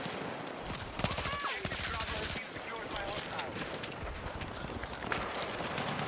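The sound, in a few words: suppressive gunfire in video game Battlefield 6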